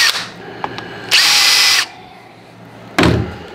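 A power drill bores holes for screws while a clamp is mounted on a table saw infeed table, making two loud, close whirring bursts, one long and one short, between brief quiet gaps.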